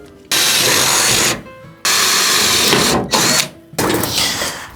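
A power tool cuts metal plate at an angle, loud harsh whining bursts in three long passes broken by short pauses, close and dominant throughout.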